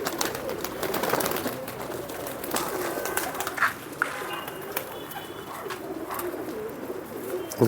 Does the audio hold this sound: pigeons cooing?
yes